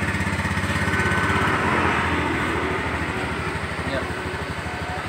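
A Honda Vario 110 fuel-injected scooter engine idles close by with a steady, rapid low thumping pulse that holds evenly for about five seconds and fades slightly toward the end.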